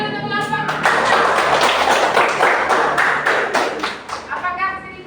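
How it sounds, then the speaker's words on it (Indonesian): Students in a classroom give a burst of applause for a presenting group, dense, loud clapping swelling within the first second, holding steady, then thinning into a few last claps as voices return. "tepuk tangan dulu untuk kelompok"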